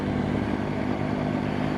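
A BMW RT motorcycle riding along a road near Melksham in Wiltshire gives a steady, loud engine drone mixed with rushing wind noise, continuous and even for the whole stretch, with no talking.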